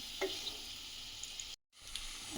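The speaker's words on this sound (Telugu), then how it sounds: "కొంచెం బ్రౌన్ కలర్ వచ్చేదాకా వేగనిద్దాం మధ్య మధ్యలో కలుపుకుంటాం" Paneer frying in hot oil and stirred now and then as it browns, giving a steady close sizzle with light clicks that cuts out for a moment before resuming.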